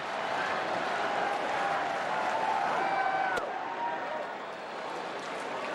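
A large crowd of about 38,000 roars at a night baseball game between the Giants and the Cubs at the Cubs' stadium. The dense, sustained cheering and murmur stays loud throughout, fades slightly toward the end, and is cut by a brief sharp sound.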